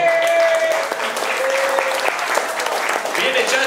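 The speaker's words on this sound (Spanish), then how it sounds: "Quiero escuchar ese aplauso" An awards show audience applauds loudly for an urban music singer, a dense continuous wash of clapping with sustained tones from music or voices mixed in.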